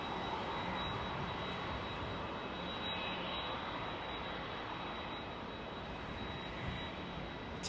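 A jet airliner departs London Heathrow Airport with a steady, loud, sustained roar and a thin high-pitched whine running through it, heard alone without talk.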